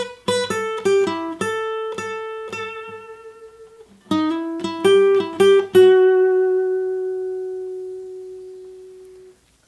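An acoustic guitar plays the intro solo of a song as quick plucked runs with bright ringing harmonics, then a second phrase ending on one long sustained note that slowly decays, close and solo.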